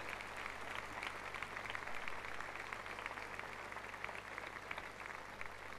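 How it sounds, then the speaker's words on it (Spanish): Sustained applause from a large crowd at a religious gathering, a dense even patter of many hands clapping at a distance, holding steady throughout. "Nuestro aplauso más sincero."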